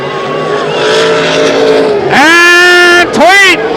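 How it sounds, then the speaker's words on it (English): Race cars roaring around Knoxville Raceway in 1987, loud close engine howl with strong harmonic whine, rising pitch as cars sweep past, a brief dip then another car screaming by. "Down the backstretch is Terry Thorson, your leader."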